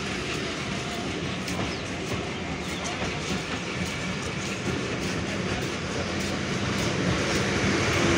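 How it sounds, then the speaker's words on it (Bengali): The Titumir Express train pulls out of the Saidpur station platform with a continuous rolling rumble and faint rhythmic wheel clatter, close and fairly loud, growing slightly stronger toward the end. "সৈয়দপুর প্ল্যাটফর্ম থেকে আউট করলো ডাউন তিতুমির এক্সপ্রেস ট্রেনটি"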